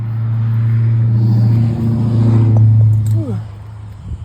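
A car drives past outside as a steady, low engine rumble that swells and then fades, with a person talking over it.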